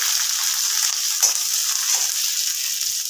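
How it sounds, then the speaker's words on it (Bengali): Chopped onion and green chilli fry in a pan with a steady, close hissing sizzle that continues evenly throughout. "এটা ভাজা ভাজা হচ্ছে"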